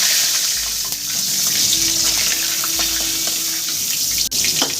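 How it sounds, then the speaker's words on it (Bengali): Pabda fish frying in hot oil in a wok, a steady, dense sizzling hiss close by with a few faint spatters and one sharp tap near the end. "বাকি মাছগুলো আমি সুন্দর করে ভেজে নিই"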